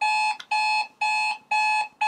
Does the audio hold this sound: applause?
no